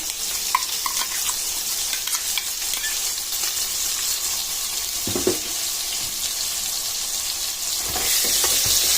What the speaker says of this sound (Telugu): ఈ మసాలా అంతా బీరకాయకి అంతేలాగా కలుపుకొని పెట్టుకోవాలి